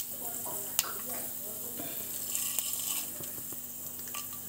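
Fenugreek seeds and other tempering spices hit hot oil for an Andhra-style sambar, with a steady close sizzle and sharp little pops and crackles throughout.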